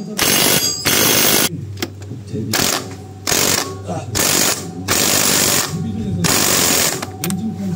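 Ratchet tightening the pulley on a Rusi RFI 175 motorcycle, a series of close, rapid mechanical clicking bursts separated by short pauses, with a steady low hum underneath.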